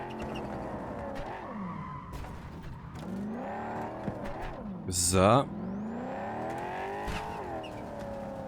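A car driving in Cyberpunk 2077, its engine droning and rising and falling in pitch with a sharp tire skid midway. The sound is steady and close, with a brief spoken word.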